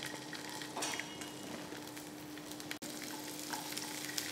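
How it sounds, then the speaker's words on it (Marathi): Garlic and ginger frying in a little oil for a Marathwada-style shingori amti, a steady close sizzle with faint stirring and a brief dip near the end, no talk. "आलं हे छान लालसर परतून घ्यायचं"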